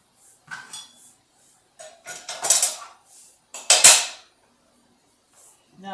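A small bowl being handled in a home kitchen while a pork and cabbage slow-pot dish is prepared: scattered clinks, knocks and scrapes of dishware against a counter, in irregular bursts with quiet gaps, close by.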